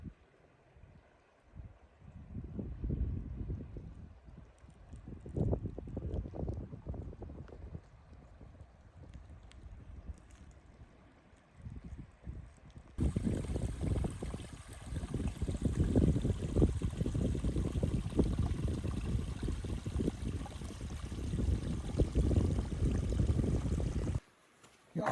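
Fast-moving creek water on Pine Creek trail rushes steadily. It is faint and gusty at first, with wind on the microphone, then turns into a louder continuous roar for the second half before it cuts out abruptly.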